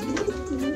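Pigeons in a loft give a soft, low cooing close by, a brief throaty burble with no talk over it.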